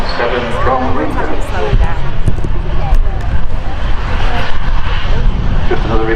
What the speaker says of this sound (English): Just arrived, Boeing 737-800 belonging to Ryanair, operating flight 4097 from Windsor.